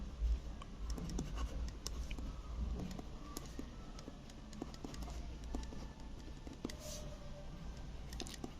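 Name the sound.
writing by hand during a lesson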